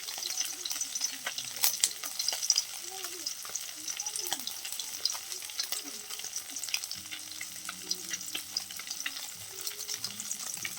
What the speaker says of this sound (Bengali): ইলিশ মাছ তো বেশি ভেজে নেবেন না